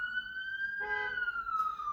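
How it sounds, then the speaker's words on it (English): A wailing siren outdoors, a steady high tone slowly rising and falling in pitch, heard at moderate distance and fairly faint throughout. "because there's some sirens outside."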